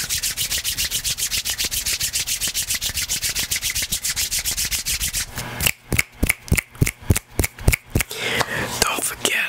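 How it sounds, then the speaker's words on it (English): Dry scratchy friction repeats rapidly, then about ten sharp, separate rasping strikes follow, like matches scraped against a striker, close up and crisp. "Tonight we're gonna have the sound of Matchstick."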